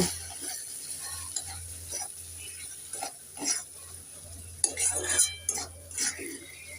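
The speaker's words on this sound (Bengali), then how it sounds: "এবার আমি দিয়ে দেবো স্বাদ মতন নুন দিয়ে দেব হলুদ গুঁড়ো দিয়ে দেব লঙ্কা গুঁড়ো একটু নেড়ে চেড়ে দিয়ে দেব" Cauliflower being stirred in a frying pan with salt, turmeric and chili powder: scattered scraping and clinking strokes of a utensil against the pan over a faint steady hum, growing busier toward the end.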